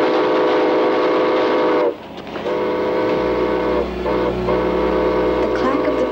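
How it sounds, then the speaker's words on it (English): A train rumbles with a long, steady whistle-like tone that breaks off and resumes, over continuous low rail noise. "The clack of the train thundered in my ears"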